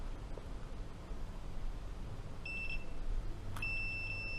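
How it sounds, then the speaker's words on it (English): Two short electronic beeps from a multimeter continuity test on a Ford Focus brake light holder's pins sound over a faint background hiss, the second starting with a click and holding steady until the end. "Hear the beep, cool, that means there's continuity in that one."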